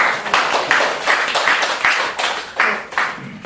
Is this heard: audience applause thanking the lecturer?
yes